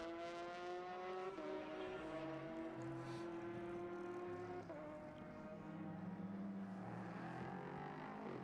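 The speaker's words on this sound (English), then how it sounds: "It's amazing to listen to the tone of the engine." A race car engine at Sonoma race track during LeMans and IMSA qualifying gives a loud, steady, tonal howl that holds pitch, with a couple of brief shifts as it gains speed. No voices are heard.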